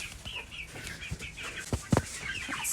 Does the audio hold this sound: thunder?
no